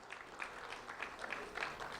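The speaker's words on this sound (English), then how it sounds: "round of applause for Innocence Davis from Tice Elementary School" Clapping from an audience at a school award ceremony, a moderately faint scatter of individual claps with slight rises, no speech over it.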